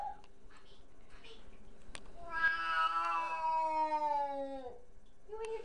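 A Siamese cat in a bathtub lets out one long, drawn-out wailing meow at close range, with shorter faint mews before and after in an otherwise quiet room.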